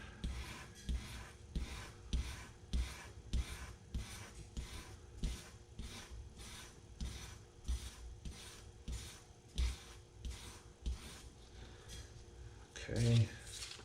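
Rhythmic back-and-forth strokes of 400 grit sandpaper on a 1911 trigger, steady and close, with a brief louder scrape at the end.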